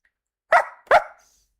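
A pet dog gives two sharp, close barks in quick succession, clear and alone with quiet around them.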